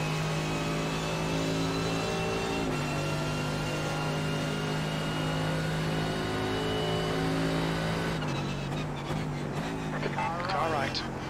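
Mercedes GT3 race car engine in the iRacing video game at Monza, a loud sustained drone with stepped pitch changes through gear shifts and a late rise in revs, with brief talk underneath.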